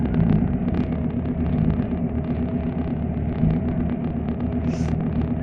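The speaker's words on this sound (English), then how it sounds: "Fab Speed is going to do an exhaust rev-off thing" Porsche 944 with a 1.8T engine idling and revving at a Fab Speed exhaust rev-off, a steady deep rumble throughout with small swells in throttle, near and loud.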